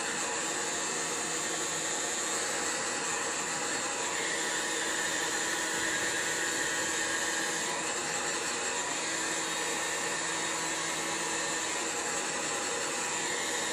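A heat gun or hair dryer blows steadily on a Cliff Keen adult wrestling headgear decal to soften it, a constant close whooshing roar with no change and no talking.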